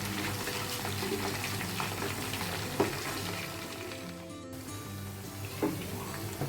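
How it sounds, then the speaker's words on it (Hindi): Chicken pieces frying in hot oil in a pan while being turned to cook both sides, a steady close sizzle with a couple of brief clinks from turning. "अब मैं चिकन को दोनों साइड से फ्राई कर ले रही हूँ अच्छे से"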